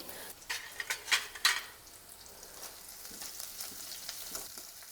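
Finely chopped onion hits a kadai already holding sautéed ingredients for paneer vegetable upma, a few loud stirring scrapes and crackles early on, then a steady close sizzle.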